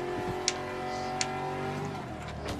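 In the racing video game FlatOut 2, a heavy car's engine drones loud and steady at high revs, with a few sharp knocks from crashes into objects.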